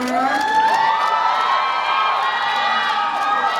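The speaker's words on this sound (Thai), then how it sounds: "ขอเสียงปรบมืออีกครั้งหนึ่งนะคะ" An awards-show audience cheers and shrieks continuously, a dense, loud wash of voices with scattered clapping beneath, sustained throughout without pause.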